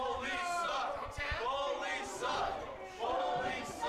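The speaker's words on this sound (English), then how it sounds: "Oh, and the crowd is chanting" A wrestling arena crowd chants in a rising and falling rhythm, a loud, sustained collective shout carried in repeated waves.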